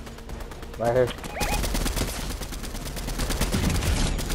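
Rapid gunfire crackles through a Fortnite fight, steady bursts of shots at mid distance under a player's brief speech.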